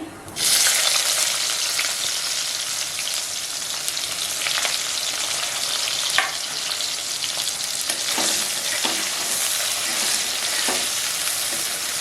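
Chopped onion sizzling steadily in hot oil over cumin seeds for an elephant-foot yam and potato curry, a loud continuous fry with occasional stir clicks, no voices.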